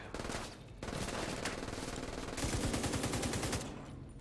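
Sustained automatic gunfire from The Division 2 rattles in fast, dense bursts, broken by a brief pause and then heavier volleys, fairly quiet overall with no talking.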